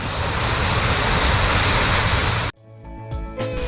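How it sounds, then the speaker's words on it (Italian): The Traton waterfall near the ruins of the Soprano mill pours in a steady, loud, broadband rush that cuts off abruptly near the end, leaving quieter low rumbles. "E per ultima la cascata del Traton."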